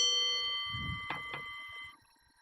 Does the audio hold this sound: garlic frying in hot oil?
no